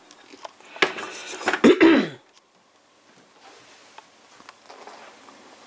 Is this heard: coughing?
yes